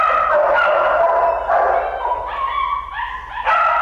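A German Shepherd protection dog barks and yips in a short run of calls, fairly close and loud, with higher whining tones toward the end.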